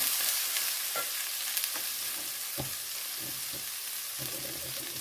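Vegetable curry with red masala being stirred in a pan for a Bhogi-style mixed vegetable dish made without onion or garlic, with a steady sizzle and soft scraping strokes of a spoon recurring every second or so.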